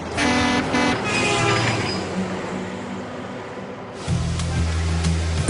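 Large pneumatic air horns on a Mack truck blare in several loud tooting blasts, close by, with engine rumble between them.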